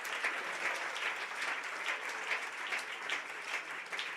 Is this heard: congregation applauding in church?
yes